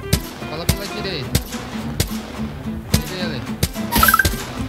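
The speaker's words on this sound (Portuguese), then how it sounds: "Vou ficar aqui dando tiro nos caras, mano." Gunfire in the Apex Legends video game: a handful of sharp, irregularly spaced shots with bursts of rapid fire near the end, heard under a player's talk and game noise.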